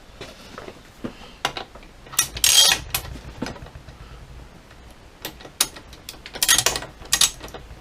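Ratchet wrench tightening bolts on a cyclekart in a small shed, a few quick clicking bursts and short ratcheting strokes, close and crisp, separated by brief pauses and quieter handling noise.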